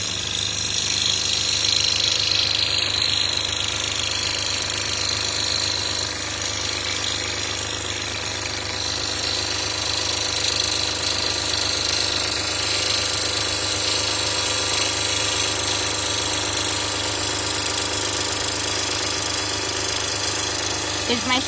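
A scroll saw cuts stencils with a steady, buzzing mechanical drone that holds at an even level throughout, with noise reduction softening it, while someone talks faintly over the running saw.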